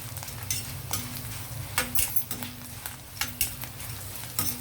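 Ingredients sizzle and fry in a pan for tamarind leaf pulihora, a steady close crackle broken by occasional stirring scrapes and light utensil clinks, with no talking.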